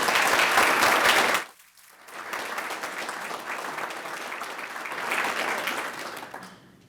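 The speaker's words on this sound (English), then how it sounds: "So let's give all of those organizations a clap." Luncheon audience applause for sponsors: a loud burst of clapping breaks off briefly, then resumes as a steady, full round of many hands before tapering away.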